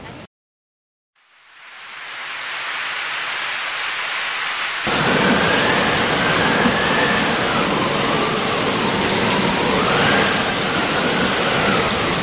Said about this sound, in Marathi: एकदम मुसळधार आणि जोरदार पाऊस आहे उमऱ्यामध्ये